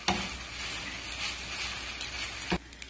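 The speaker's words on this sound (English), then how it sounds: "And continue to stir until the noodles dries up a little bit." Noodles stir-fried in a pan with lobster tail, ginger and scallion, with a steady close sizzle broken by a couple of clanks from the stirring utensil.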